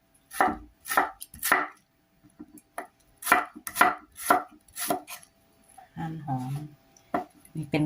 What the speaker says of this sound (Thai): หั่นหอมเพื่อสิเอาไปตำนะจ้ะ